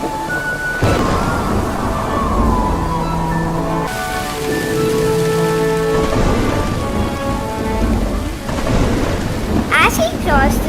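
Thunderstorm sound effect with heavy pouring rain and rolling thunder, loud and continuous under a narrating voice and soft musical tones.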